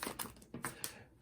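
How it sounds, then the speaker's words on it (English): Tarot cards shuffled in sped-up bursts, giving quick papery riffling and slapping rustles in several short clusters, close and fairly quiet, with no talking. "I'm gonna go ahead and speed up the shuffling process"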